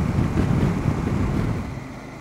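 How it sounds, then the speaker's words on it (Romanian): Strong headwind roaring across the microphone while riding a CF Moto 800MT Explore motorcycle on a highway, a dense, loud, steady rush with no speech. "Rupe, vântul ăsta rupe."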